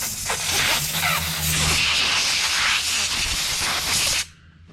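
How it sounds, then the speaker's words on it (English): A steady, loud hiss of carburetor cleaner spray on a Craftsman MTD Troy-Bilt Storm snowblower carburetor sprays continuously for about four seconds, then cuts off abruptly, leaving quiet background. "You spray down through the, should be able to see the spray"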